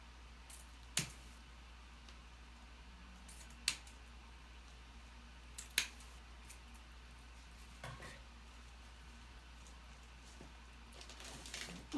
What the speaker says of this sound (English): now I'm going to trim the ends because they do get a little frayed when you're handling it